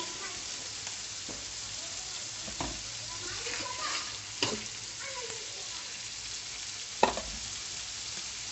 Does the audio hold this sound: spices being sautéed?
yes